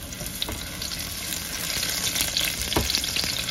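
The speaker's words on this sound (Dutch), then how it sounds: "Dan ga ik mijn uien zetten." Onions frying in hot oil in a home kitchen, a steady close hiss with crackling pops and an occasional stir throughout, no talk.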